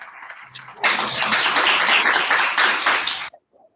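An audience at a conference on evaluation and planning applauds, a dense, loud burst of clapping lasting about two and a half seconds that stops abruptly, with a brief voice before it.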